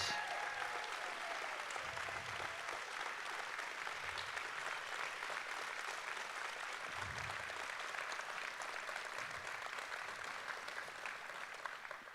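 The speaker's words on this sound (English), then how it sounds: "will you join me in a round of applause to thank them for what they've done?" Gala guests applaud the award winners, a soft, continuous ripple of many hands clapping at a distance in a large hall, steady throughout with low thumps underneath.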